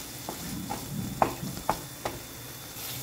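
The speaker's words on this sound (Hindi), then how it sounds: "हमारे सारे मसाले अच्छे से भुन गए" Spices with homemade garam masala and red chilli powder frying for dal makhani, a soft sizzle broken by several sharp spoon taps and stirring scrapes at uneven intervals.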